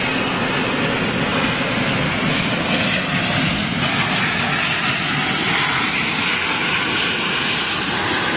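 A big jet airliner roars steadily on a runway, its loud engines filling the scene as a constant broad rumble and whine with no break and no speech.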